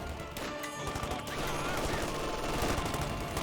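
Bursts from an MG42 machine gun in the Company of Heroes 2 video game, dense and continuous rattling fire mixed with battle noise, loud throughout and unbroken by talk.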